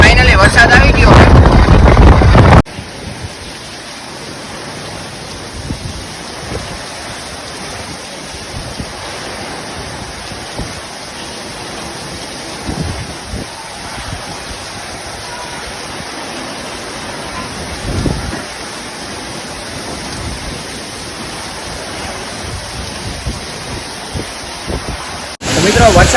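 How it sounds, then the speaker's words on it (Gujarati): Heavy rain falling on farmland during a windy storm, a steady, soft hiss that carries on for most of the time, framed by brief loud wind buffeting at the start and end. "મિત્રો ફાઇનલી વરસાદ આવી ગયો છે."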